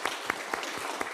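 Church congregation applauding during a Sunday service to welcome visiting family members, a short burst of scattered claps with a few sharper peaks, moderately close and without talk.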